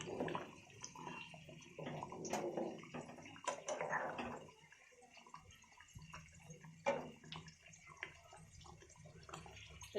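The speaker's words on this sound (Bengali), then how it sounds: "আর এদিকে দেখুন এটা ফুটছে।" A pot bubbling on the stove, with soft irregular gurgling and popping in short bursts, fairly faint and close, with no voices.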